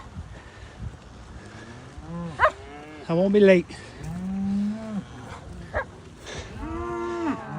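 Cattle that have broken loose on a neighboring farm moo several times, the calls loud and drawn out, while a person speaks briefly in between.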